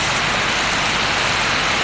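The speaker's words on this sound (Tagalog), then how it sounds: "lakas na naman ang ulan guys." Steady, dense downpour of heavy rain, a continuous loud hiss with no pauses or voices.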